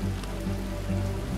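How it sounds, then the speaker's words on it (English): Steady rain patters on the surface as a tornado passes and the storm eases, a continuous wash of drops with a low hum running underneath. "Rain's letting up."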